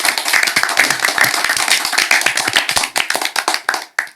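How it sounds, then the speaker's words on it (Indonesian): A group of new members of a community club clap their hands together at an indoor gathering, loud, close and fast-paced, then the clapping thins into scattered claps and stops. "Tepuk tangan buat kita semuanya."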